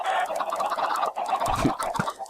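Chickens on a Minecraft chicken farm cluck continuously at close range, several birds overlapping in a busy chatter that runs through the whole clip.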